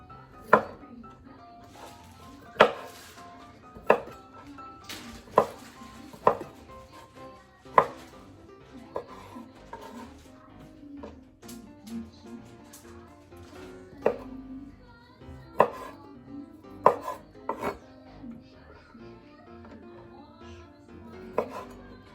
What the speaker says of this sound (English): I'm just gonna cut this into pieces.